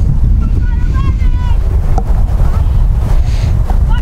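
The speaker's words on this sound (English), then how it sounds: "Cold, windy day" Strong wind buffeting the microphone with a heavy low rumble throughout, while faint voices carry underneath, on a cold day at an outdoor women's college soccer match.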